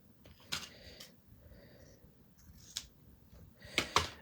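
Scissors snip through card stock during card making in a few separate crisp cuts, quiet and close, with soft handling noises between them.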